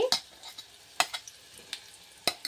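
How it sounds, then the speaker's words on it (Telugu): Date paste cooking in ghee with a splash of milk, a low soft sizzle broken by sharp scraping strokes of a spoon stirring the pan at irregular intervals, close and fairly quiet with no talk. "ఆ నెయ్యిలోనే మనం ఖర్జూర పేస్ట్ కొంచెం పాలు వేసుకుంటూ వేపుకోవాలండి"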